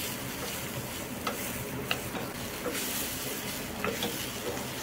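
Mango pieces are stirred and roasted in a pan, giving a soft, steady sizzle broken by occasional light scrapes and taps of the spoon, fairly quiet throughout.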